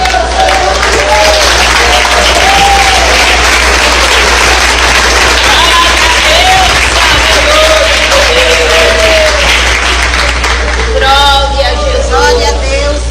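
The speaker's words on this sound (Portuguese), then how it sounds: "podem glorificar a Deus com as palmas" A church congregation claps in praise, a loud continuous roll of applause with crowd murmur and some cheering, while voices rise over it near the end.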